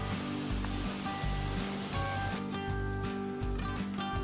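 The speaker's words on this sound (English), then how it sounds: "Waterfall number 6." Steady rushing roar of waterfall number six on the Trail of Ten Falls in Oregon, broadband and continuous with slight pulsing, heard close and fairly loud with no voices.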